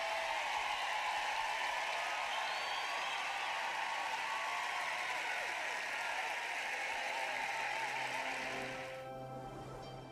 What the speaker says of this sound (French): Applaudissons à Dave.